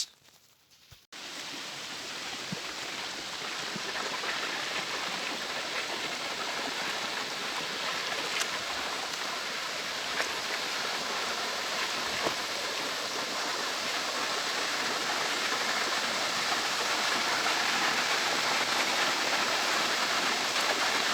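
Rushing water from a river and the Barriowin Falls: a loud, unbroken broadband roar that starts abruptly after a brief quiet moment and holds steady, growing slightly stronger toward the end.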